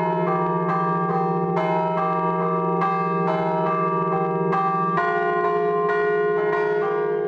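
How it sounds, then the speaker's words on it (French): Three bronze carillon bells ringing in a steady melodic pattern, several tones struck in sequence over a sustained resonant hum, loud and continuous. "notre carillonneur possède en revanche l'oreille musicale pour extirper de ses trois cloches en airain les airs"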